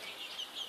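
Chicks cheeping in a brooder, a soft, continuous chorus of thin high peeps from many birds, steady and moderately faint throughout the short moment.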